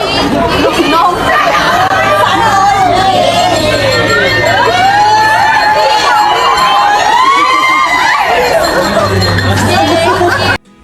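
At a birthday surprise party, a large crowd of fans shrieks and cheers loudly and continuously, with excited overlapping voices and chatter throughout.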